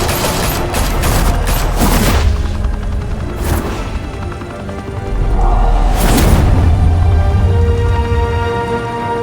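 Gunfire and explosions in the video game Batman: Realm of Shadows, with loud, dense bursts of shots and booming impacts, a brief lull midway, then heavy rumbling blasts returning.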